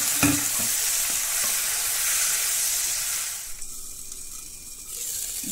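Turmeric, spices and slit green chilies frying in a pan for a thin rohu fish curry: a loud, steady sizzle with stirring scrapes that eases partway through, then swells again; no speech.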